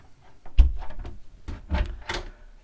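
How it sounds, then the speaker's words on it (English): A door aboard a Jeanneau Sun Odyssey 490 yacht is swung closed, giving a couple of close, soft wooden knocks and clunks with light handling rattles in between. "and with that door closed over"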